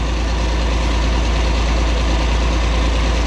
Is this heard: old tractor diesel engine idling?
yes